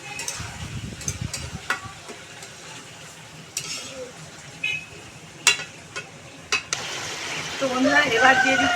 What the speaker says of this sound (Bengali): এবার মাংসের মধ্যে এই পেঁপেগুলো দিয়ে আরও কিছুক্ষণ কষিয়ে ভেজে নেব